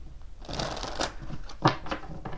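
Tarot cards riffle and shuffle in quick bursts for a couple of seconds, with a sharper snap partway through; close and fairly quiet, no voices.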